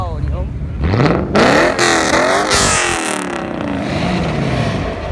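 A loud car at an old car show revs hard several times, the engine pitch climbing and falling in bursts close by, with excited voices talking over it.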